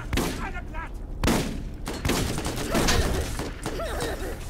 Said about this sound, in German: Oh, die Waffe ist so geil, der Revolver.